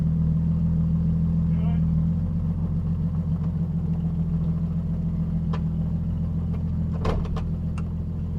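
Off-road vehicle engine running at a low idle with one wheel locked up, a steady heavy rumble and a faint mechanical hum, with people talking briefly over it.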